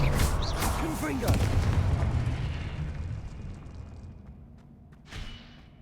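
A Confringo explosive spell blast in Hogwarts Legacy, a loud booming burst up front that decays over several seconds into a fading rumble, with a smaller thump near the end.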